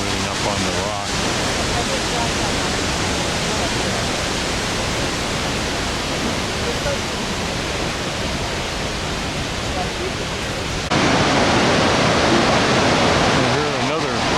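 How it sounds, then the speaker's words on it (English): A waterfall in Iceland roars as a constant, loud broadband rush of falling water that continues unbroken and swells a little louder toward the end, close at hand. "And here's another magnificent waterfall."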